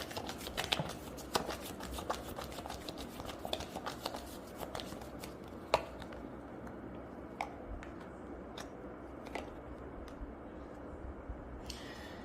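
Tarot cards are shuffled and drawn during a reading, giving soft papery riffles and crisp individual snaps and flicks scattered over twelve seconds, close and fairly quiet.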